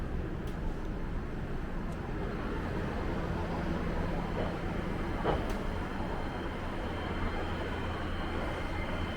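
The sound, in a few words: two-car commuter train departing station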